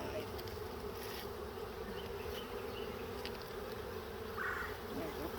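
A swarm of wild honeybees fills the air with a dense, continuous buzzing hum, steady and fairly close, with no voices heard.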